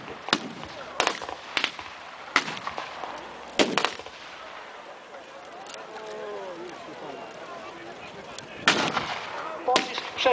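Loud tank gunshots boom in sharp, irregular bursts with echoing tails, alongside a faint rumble and brief distant cracks.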